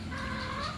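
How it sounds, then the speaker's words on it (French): Hens clucking nearby in a short, busy burst of overlapping calls, with no talk over them. "Qu'est-ce qui se passe les poules, je sais même pas."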